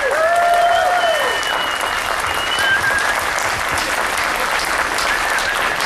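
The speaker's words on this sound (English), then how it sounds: "Please give them a big round of applause." Steady applause from a crowd, sustained and full throughout, with a few whistles rising above the clapping.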